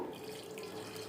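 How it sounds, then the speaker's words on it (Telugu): Tamarind water pours steadily into a pot of pappu pulusu made with toor dal, a continuous quiet splashing trickle, close and uninterrupted, with no voices. "ఇప్పుడు ఈ వాటర్ పోద్దాము"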